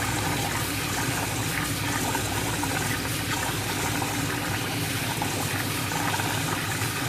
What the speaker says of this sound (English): get my hand and just keep on rinsing it out. Each time let the water run through it.